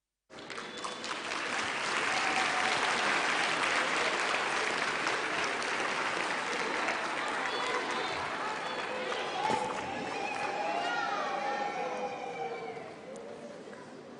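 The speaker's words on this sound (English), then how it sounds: "I would like us to give a very big round of applause to all our graduates." Large-hall applause for business faculty graduates at a university autumn graduation ceremony, building quickly into sustained crowd clapping over roughly thirteen seconds, with scattered cheers and voices in the crowd, heard at a moderate distance.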